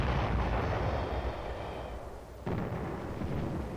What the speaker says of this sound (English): morning quiet is shattered as salvo after salvo saturates the enemy position